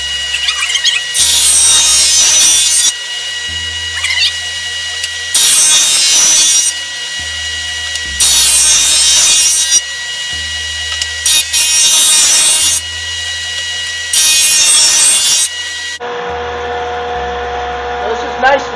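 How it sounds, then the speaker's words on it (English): Jointer planing a wooden board for an axe handle, loud bright cutting bursts repeated in five passes of about two seconds each, with a low motor hum continuing between them and quieter tool sounds at the end. "So yeah, this is my jointer. It's going to be a little noisy"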